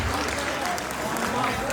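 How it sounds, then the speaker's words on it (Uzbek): Wedding guests at an Uzbek celebration applaud in a brief, dense burst of clapping that stays steady and moderately loud. "Bir qarsak chalib turinglar azizlar"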